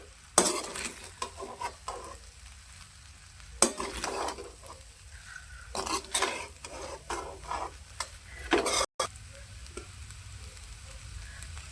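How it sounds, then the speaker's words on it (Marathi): A spoon stirring veg fried rice in a hot pan, with scraping strokes in irregular bursts over a soft, steady sizzle, close and moderately loud, without talk. "आता हलवून घेते."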